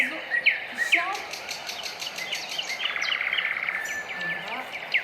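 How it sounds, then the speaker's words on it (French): Several birds chirp and whistle outdoors in bright, repeated song phrases, fairly close and steady across the clip, over a soft background hiss with no talking. "il y a les oiseaux qui chantent"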